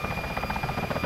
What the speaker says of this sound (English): Pursue the chopper.